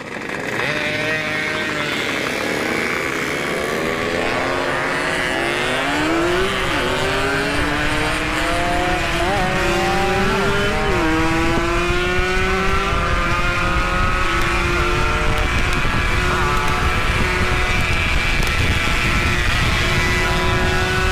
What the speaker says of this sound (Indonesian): Nahan-nahan gas doang, nahan-nahan gas doang.